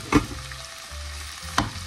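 Mustard seeds, onion, green chilli and curry leaves frying in hot oil for egg cutlet, a close crackling sizzle with two sharp bursts of spatter, one at the start and one near the end.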